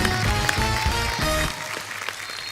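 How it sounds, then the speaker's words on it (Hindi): Studio audience of The Kapil Sharma Show claps for guests Ajay and Abhishek, the applause mixed with a loud musical sting for about a second and a half before both cut off, leaving a quieter room. "जोरदार तालियां एक बार अजय सर और अभिषेक सर के लिए"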